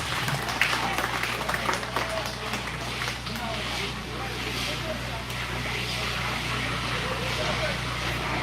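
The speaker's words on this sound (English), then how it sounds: "Absolutely, give them a round of applause." Audience at a county junior livestock show for sheep and goats claps in a large indoor arena, a continuous wash of applause over a low steady hum, moderately loud throughout.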